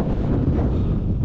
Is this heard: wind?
yes